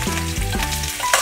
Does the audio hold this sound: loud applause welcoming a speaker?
no